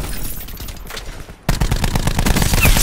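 Automatic gunfire from a Call of Duty multiplayer match, with the Rampart 17 rifle in use, rattles in rapid bursts, quieter at first, then a louder, denser volley after a brief gap.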